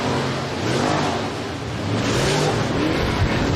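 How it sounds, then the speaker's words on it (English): A race car circles Boone Speedway in Boone, Iowa during a hot lap session, its engine a steady, continuous drone with gentle pitch swells as it rolls around the track at a moderate distance. "Tyler DeBush, the 66 from Green Bay, as we let him roll the track in."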